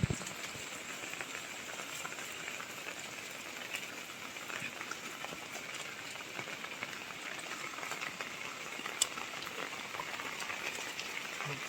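Steady rain falls outdoors on a wet village plot during mango sapling grafting, a continuous soft hiss of drops, fairly faint, with no voices.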